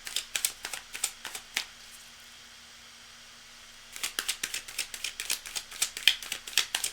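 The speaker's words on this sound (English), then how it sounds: "Alright, cards are nicely shuffled." Tarot cards are shuffled by hand in quick, crisp riffling bursts, pausing briefly before a second run of close, snappy card flicks.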